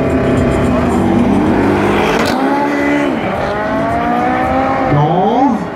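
A Porsche and a BMW race side by side in a sprint drag event at Powerfest in Boľkovce, their engines roaring loud and close with rising and falling revs through gear changes, while a commentator talks over them.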